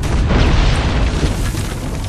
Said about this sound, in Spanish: ¡Venga, unos disparos más!